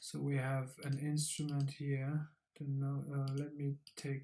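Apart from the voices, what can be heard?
No distinct noise like a dog, phone or traffic.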